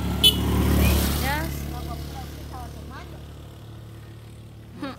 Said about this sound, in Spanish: viene una moto